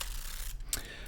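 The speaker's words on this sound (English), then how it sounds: "you've obviously got your winding crank, which is for winding on the film" Winding crank turned on a Zenza Bronica ETRS medium format film camera, giving a brief close mechanical ratcheting click and whir, quiet and alone.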